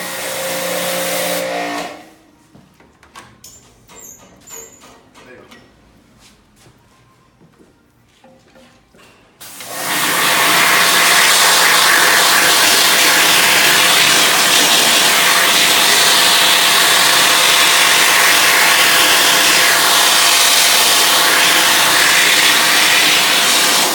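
Pressure washer spraying emulsion remover off a surface, starting loud after a quieter stretch of clicks and handling noise, then a steady broadband hiss that holds for the rest of the clip.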